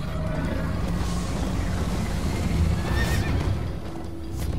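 Horse in the Minecraft: Story Mode video game whinnying over steady hoofbeats as it gallops, the clip-clop rhythm continuous beneath a clear neigh near the end.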